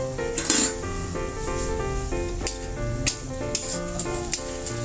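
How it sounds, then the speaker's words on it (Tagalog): Food stirred in a pan on the stove, a steady sizzle of frying with light clinks of a utensil against the cookware, continuous and close, with no talking. "Siguro, haluin natin ng konti."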